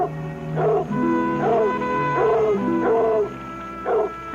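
A dog howls and yips in a repeated pattern of about five rising-and-falling cries, close and clear with no voices over it.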